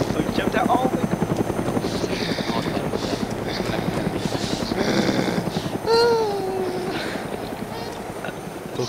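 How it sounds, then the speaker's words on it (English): Helicopter in the video game Arma 2 DayZ, a steady rhythmic rotor chop running throughout, with players talking and shouting over it and a brief whistling tone partway through. "Look at the chopper."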